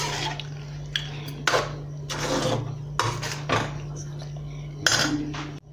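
A spoon scrapes and clinks against a pot while salted beef curry is stirred, several uneven metallic knocks and scrapes over a steady low hum, close and moderately loud.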